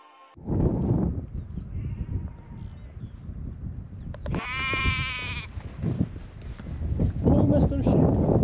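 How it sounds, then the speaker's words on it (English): A sheep in the Brecon Beacons, Wales, bleats loudly and close by with a wavering cry midway, framed by outdoor talk and wind buffeting the microphone. "Hello, Mr. Sheep."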